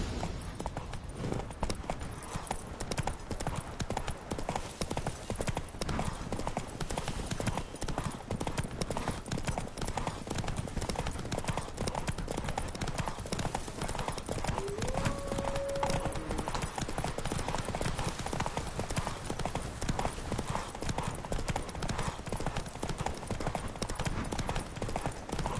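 Continuous fast clip-clop of a galloping horse in The Witcher, hooves drumming evenly and up close for the whole stretch, with a brief faint tonal call midway.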